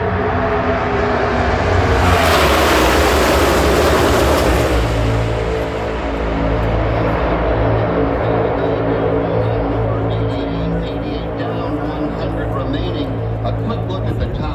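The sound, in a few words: NASCAR Cup cars racing side by side at Talladega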